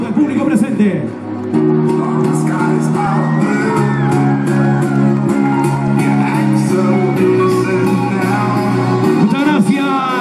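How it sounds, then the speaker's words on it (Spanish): Audience cheering and shouting at a Miss Carnaval 2019 queen election in La Convención, a loud, steady crowd roar with whoops throughout, over sustained music. "Es el aplauso del público presente."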